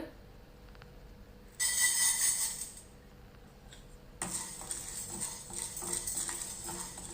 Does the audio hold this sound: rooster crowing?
no